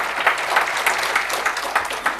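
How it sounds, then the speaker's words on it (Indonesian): A church congregation claps steadily together, a dense even patter of many hands filling a large room without pause. "Tepuk tangan saudaraku."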